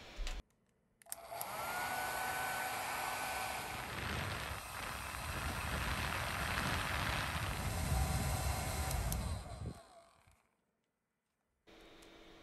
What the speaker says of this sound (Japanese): ヘアドライヤーに取り付けて耐熱テストをします。